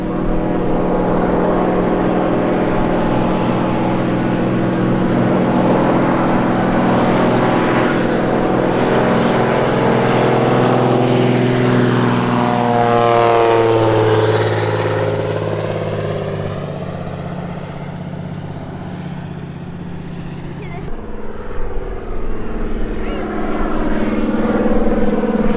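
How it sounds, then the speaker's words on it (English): A float plane on a river in Kenai, Alaska, takes off with a loud, sustained propeller engine drone that shifts in pitch as it passes and fades, then swells again, heard alone with no talk. "We got a float plane taking off from the river."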